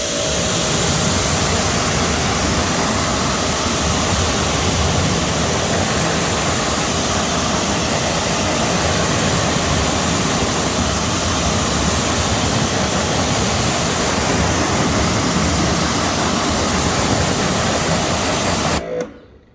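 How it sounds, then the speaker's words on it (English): A pressure washer rinses cleaner off an uncoated car wheel, giving a loud, steady broadband spray hiss held unbroken for nearly twenty seconds before it cuts off abruptly. "Let's power wash it off and see how clean the wheel got with touchless."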